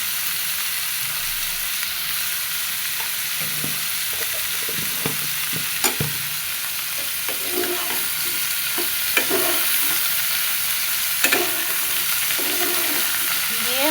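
Hilsa fish with turmeric and salt sizzling in a pan, a continuous loud frying hiss with occasional scraping stirs and light clinks throughout.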